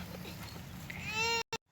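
A goat on a farm on a stormy day gives a single faint bleat at the end, under steady rain and low rumbling noise before the sound cuts off.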